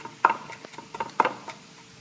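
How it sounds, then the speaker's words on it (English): A few sharp knife chops on a cutting board while chopping garlic, spaced irregularly, with quiet kitchen background between them. "now I'm chopping the garlic to add to the chicken"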